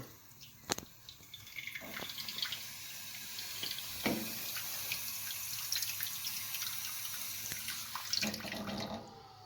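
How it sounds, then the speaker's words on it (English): Water is poured over crushed acorn dust for leaching, a close, continuous trickling and splashing with scattered clinks and knocks from the container, and no voices. "And then I'll leach them in water."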